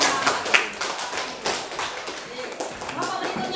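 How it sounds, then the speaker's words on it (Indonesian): Students in a classroom clap for a group of classmates, a short burst of scattered hand claps mixed with voices and chatter throughout. "beri tepuk tangan kelompoknya"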